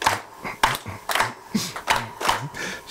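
An audience at a live Latin percussion clinic claps along to a clave rhythm, a quick syncopated pattern of sharp hand claps repeated over two short phrases, fairly close and lively.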